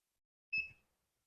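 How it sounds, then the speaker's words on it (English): A sublimation heat press, used here to print on a canvas bag, gives a single short electronic beep in an otherwise quiet room. "Now it's beeping, so we have to stop"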